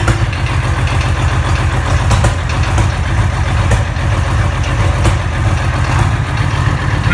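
A truck engine idles in cold weather after catching on its second start attempt, a steady low rumbling drone with a slight irregular throb, loud and close throughout with no voices.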